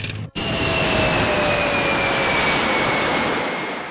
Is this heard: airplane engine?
yes